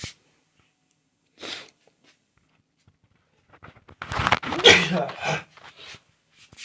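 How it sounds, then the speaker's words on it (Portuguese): A person sneezes once sharply outdoors in a cold wind, a short loud burst after a quiet intake of breath. "Um espirro."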